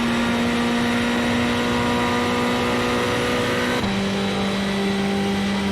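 A Ferrari race car engine drones steadily at high revs on the Spa circuit in a racing video game, loud and close, with a sudden drop in pitch at a gear shift partway through.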